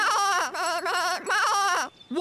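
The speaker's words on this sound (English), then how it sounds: "What's that, Mrs. Goat? She's saying Packer's stuck" Goat bleating in a children's animated show, a series of loud, wavering bleats close by, broken by brief pauses, with a short tonal sound near the end.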